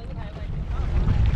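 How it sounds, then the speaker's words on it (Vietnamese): Engine of a small Vietnamese fishing boat used for lift-net fishing runs with a low, steady rumble, mixed with strong wind buffeting and some nearby talk. "hai ghe mành nổ máy"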